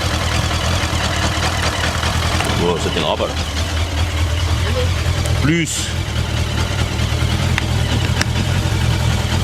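A Honda 600 Transalp motorcycle engine idles with a steady low rumble after a jump start from cables, with people talking over it throughout.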